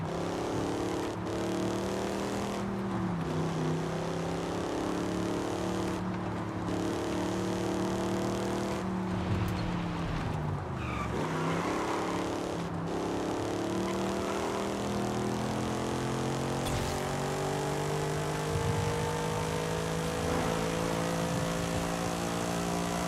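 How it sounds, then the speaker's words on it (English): Mercedes C63 V8 engine in Forza Horizon 5, a steady close drone with rising and falling revs and gear shifts throughout, dense and continuous without speech. "I don't know why it sounds like a Mercedes V8."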